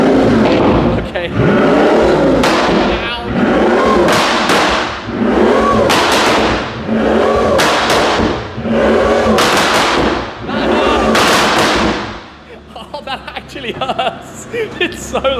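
A Pagani Imola supercar engine revs loudly again and again in repeated bursts, with sharp exhaust pops between them. It then drops to a low idle while people talk.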